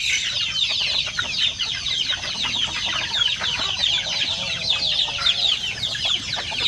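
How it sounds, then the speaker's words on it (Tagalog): About two-month-old hungry chickens at feeding time cluck and peep continuously as a busy flock, close by and fairly loud, with scattered sharper calls throughout. "So ngayon ay magpakain tayo sa ating mga manok ko. Dahil yan gutom na sila."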